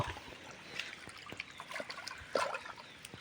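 Water trickles from an opened valve into a clay bird water pot, a faint, uneven dribble with small splashes and one brief louder splash near the end, heard close and without talk.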